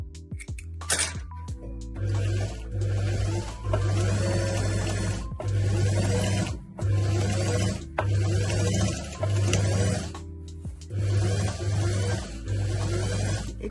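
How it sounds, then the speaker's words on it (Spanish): Sewing machine stitching a trouser hem, running in repeated bursts of fast mechanical whirring and clatter separated by short pauses, close and loud. "Y bueno, vamos a coser."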